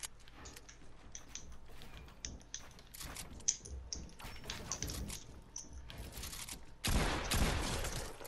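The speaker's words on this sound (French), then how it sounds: "J'ai raté ma balle de pompe!" Shotgun blasts from a video game build fight ring out as sharp, scattered reports among clicks and building sounds, ending in a heavier, louder burst near the end.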